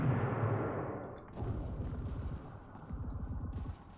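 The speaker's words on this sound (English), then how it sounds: "We're going to use airstrike" An airstrike in the Warplan strategy game lands as a series of rumbling, crackling explosive bursts in quick pulses, loud and close, fading out at the end.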